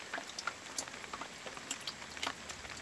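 Water drips and patters down inside a rain barrel, with a soaked t-shirt acting as a filter; faint, irregular drops tick and plink close by in a quiet setting with no voices.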